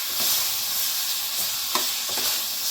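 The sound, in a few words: mutton frying and being stirred in a pan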